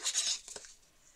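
Scissors cutting scrapbooking ribbon, heard as a quick close swish followed by a couple of crisp little snips, over within a second.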